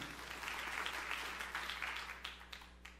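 Church congregation applauding during a sermon, a faint, distant patter of steady clapping over a low hum.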